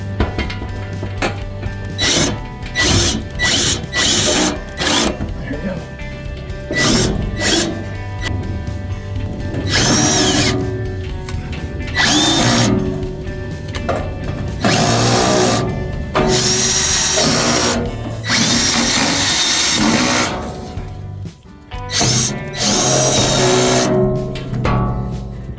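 Power drill fitted with a 10mm socket driver sinking self-tapping hex-head screws into a Primal Grill PG-LF40's shelves, a series of loud whirring bursts with ratcheting clicks and short pauses between screws, close by.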